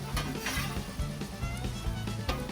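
Meatballs fry loudly on a Blackstone griddle, a steady dense sizzle with small crackling pops throughout and no voices.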